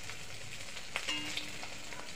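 Eggs fry in a pan with a quiet, steady sizzle and a few faint clinks and scrapes near the middle. No one speaks.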